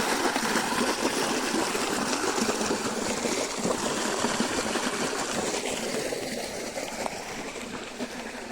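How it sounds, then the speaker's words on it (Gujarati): Water runs brimming full along a farm irrigation channel. It gives a continuous, close, splashing rush at an even level that eases slightly near the end, and no one speaks. "આખો ધોરિયો છલીને જાય છે પાણી"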